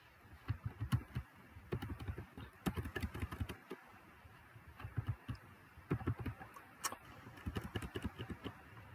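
Clacky, close typing on a computer keyboard in rapid bursts of keystrokes with short pauses between runs, fairly quiet overall.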